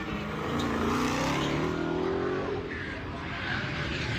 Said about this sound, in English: Cell phone video from a witness at the scene shows a car racing by at high speed.